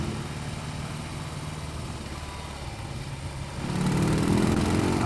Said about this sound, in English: I love the engine sound on this. Not just the engine sound, but the exhaust sound as well.